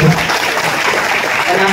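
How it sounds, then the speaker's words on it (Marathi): Audience clapping at a kirtan, a dense burst of applause filling the clip, loud and continuous, with voices mixed underneath. "एकदा जोरात टाळी वाजवा."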